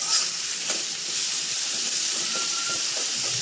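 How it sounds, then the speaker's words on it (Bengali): Meat frying in oil with onions in a home kitchen, a steady bright sizzle running for the whole stretch with no talk over it. "আর এদিক দিয়ে আমি বাগার দিচ্ছি মাংস"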